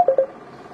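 Telephone keypad tones beep twice in quick succession, loud and close, followed by a faint line hiss and a brief higher tone at the end.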